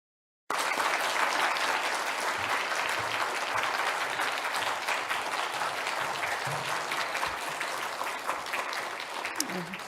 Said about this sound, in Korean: 나오실 때 큰 박수로 환영해 주시기를 바랍니다